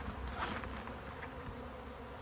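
Bees buzz steadily at a crowded hive entrance with heavy traffic in the air, a dense continuous hum close by with no talking.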